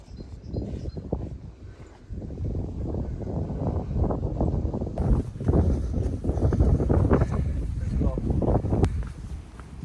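Gusty wind on the Cotswold Way walking trail buffets the microphone in rough bursts, rising louder in the second half, while people talk over it.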